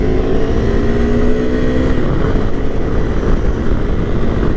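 A Honda CRF 250 Rally motorcycle accelerates onto a highway with a loud, steady engine drone and rushing wind, its pitch rising slightly and then holding as speed builds.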